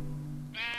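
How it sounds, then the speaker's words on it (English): A single short sheep bleat from the Minecraft video game, a brief nasal cry following a low hum, heard alone. "That was a sheep, dude."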